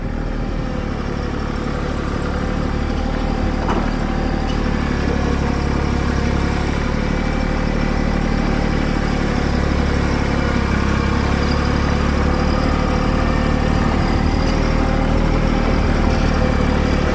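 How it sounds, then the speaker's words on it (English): A Bad Boy tractor's engine runs steadily under load while hauling about 14,700 pounds of lumber through trees in a big yard, a continuous close rumble with no talk. "Tractor is getting a workout today."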